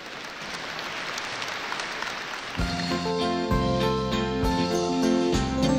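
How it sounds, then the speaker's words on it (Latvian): Audience applause at a Latvian concert, a steady patter of clapping for about two and a half seconds before a band begins playing over it. "Jau iepriekš pateicos par aplausiem."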